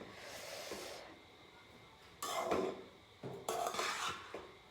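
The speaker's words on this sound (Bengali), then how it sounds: "চলো তাহলে মিক্স করে নিই" Fried rice being tossed and stirred in a metal pan or bowl after salt, sugar, kewra water and rose water go in, with two bursts of scraping, clinking utensil-on-metal noise separated by a quieter pause.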